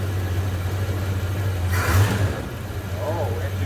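A 1971 Dodge Coronet police car V8 idles after a Carter four-barrel AFB carburetor cleaning, a steady low rumble with a brief rise in the middle and faint talk over it.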